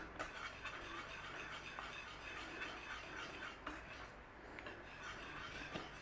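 A utensil stirs cheese through a gluten-free sauce in a pan, with soft repeated scraping and rubbing strokes against the pan, quiet and close with no talking.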